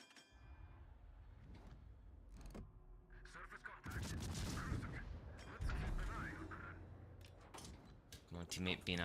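Naval shellfire from warship guns in World of Warships, with heavy booming salvos and rumbling impacts layered with clanks and metallic clatter, while someone talks over the battle.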